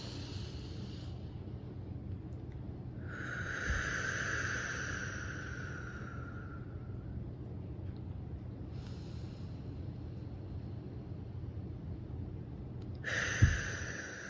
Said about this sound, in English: We're just gonna take some deep breaths.